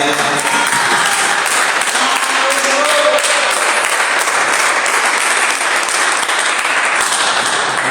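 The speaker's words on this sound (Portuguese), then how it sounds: "Quem pode dar uma salva de palmas?" A church congregation gives a long, loud round of applause during an evening service, dense sustained clapping with sharp individual claps throughout and no letup.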